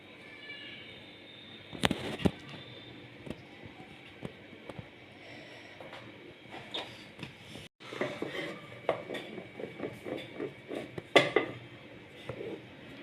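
A knife cuts sugar shankarpali dough into large rectangles on a plate, giving irregular clicks and scrapes of the blade against the plate, with a louder cluster of taps near the start and busier cutting toward the end.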